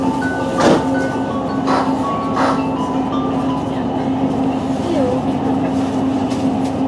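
A train running from Shrewsbury toward Church Stretton hums steadily with a constant engine drone, a few sharp clanks and rattles early on, heard from inside the carriage.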